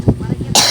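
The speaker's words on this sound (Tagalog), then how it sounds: "Sensya na kayo na inuubo ako." A man sick with flu coughs: a short low burst at the start, then a few rough throat sounds, ending in a hiss of breath or noise.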